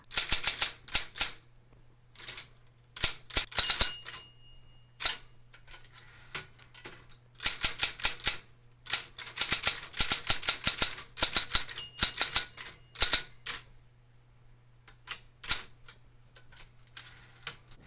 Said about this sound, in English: So I did want to sit down and do a little bit of a type test for you now that the shift button is working